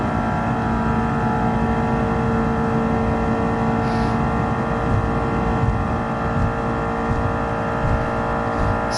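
A Toyota MR2 in Gran Turismo Sport at very high speed gives a steady, loud, unbroken engine drone with a sustained whine that holds nearly constant pitch throughout.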